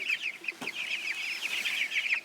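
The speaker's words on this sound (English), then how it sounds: "I have a chicken that's refusing to move." Meat chickens cluck in a steady, busy chatter close by, a flock being moved to a coop on a hill, with no talking over the sound.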